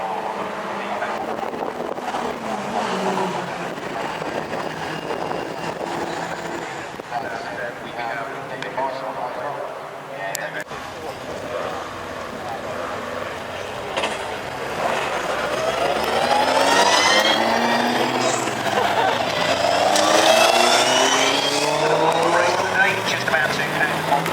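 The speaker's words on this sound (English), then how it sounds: "John trying to get out of Lewis yellow Ginetta G1, and he can go around the field" Race cars, Special Saloons and Modsports, lapping Cadwell Park, engines rising and falling in sweeping passes at a distance, growing louder toward the end beneath continuous commentary.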